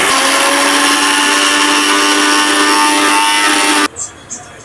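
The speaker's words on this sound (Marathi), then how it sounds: "तर आपण आता हे मिक्सरला बारीक वाटून घेऊया." A mixer grinder whirs loudly and steadily as it grinds chillies, ginger, coriander and roasted cumin, then cuts off abruptly, leaving a couple of soft knocks afterward.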